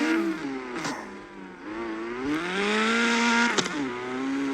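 A car engine in a video game revs hard through a drift, its pitch rising and falling in sweeping waves, loud and steady with no talk.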